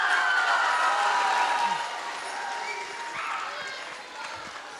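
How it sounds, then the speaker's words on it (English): An audience in a school gym applauds volunteers after an Indigenous hoop dance performance, a dense round of clapping from a crowd that slowly tapers off toward the end. "Let's give our volunteers a round of applause."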